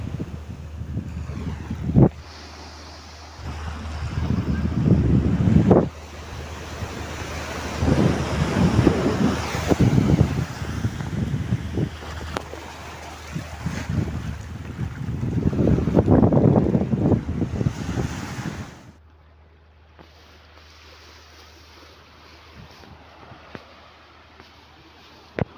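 Sea waves and gusting wind at the shore in Gwadar, a steady roar of surf with heavy wind buffeting the microphone for most of the clip, then easing to a softer, quieter wash near the end.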